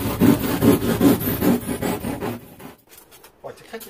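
Insulation strips for a camper van conversion being cut to size, giving a steady rasping, rubbing stroke repeated about five times up close, then stopping and leaving a quieter stretch with a few faint handling sounds.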